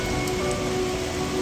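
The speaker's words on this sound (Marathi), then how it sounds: "किती मोठ्या प्रमाणात पाऊस झालाय" Heavy monsoon rain in Mahabaleshwar falls as a loud, steady, unbroken hiss of water hitting surfaces, close and constant with no voices.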